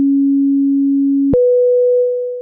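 Aparillo synthesizer playing a pure monophonic sine-like tone: one steady low note holds, then jumps abruptly to a single higher note that sustains and slowly fades, clean and loud with nothing else heard.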